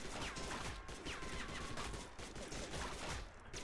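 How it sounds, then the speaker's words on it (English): Enemies in the twin-stick horde bullet-hell game DeathrunTV firing nonstop, a dense, loud barrage of overlapping gunshots and whizzing projectiles running continuously throughout. "They're just gonna keep shooting."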